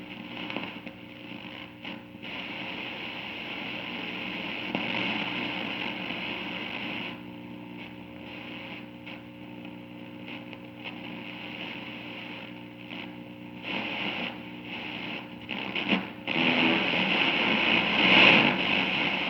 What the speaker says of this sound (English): it seems like it's picking up stations, but it seems heavily distorted and pretty noisy